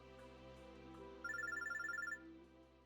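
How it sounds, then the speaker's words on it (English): A phone droid rings in the visual novel game Robotics;Notes Elite, a rapid electronic trill repeating for about a second over a quiet, steady ambient music bed, with no talking. "My phone droid begins to ring."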